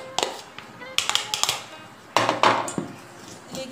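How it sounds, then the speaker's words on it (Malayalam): Maida flour and powdered sugar are stirred in a bowl for homemade cookies, giving a series of close clinks, taps and scraping sweeps, with a few louder knocks against the bowl's side. "ആദ്യം തന്നെ നമുക്ക് ഈ മൈദയിലേക്ക് പൊടിച്ച പഞ്ചസാര ഇട്ടിട്ടൊന്ന് നന്നായിട്ട് മിക്സ് ചെയ്തെടുക്കാം"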